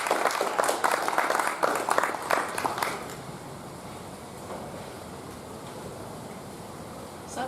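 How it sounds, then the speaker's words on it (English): Audience applause at a student publication party welcoming a reader to the stage, a few seconds of dense clapping that fades out, leaving quiet room tone. "Big round of applause"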